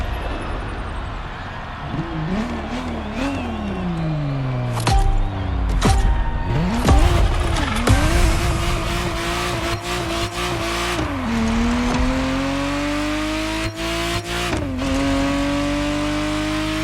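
A Ferrari Testarossa engine in the racing game The Crew Motorfest revs and climbs through gears, pitch rising and dropping with each shift over a steady roar, with occasional sharp clicks.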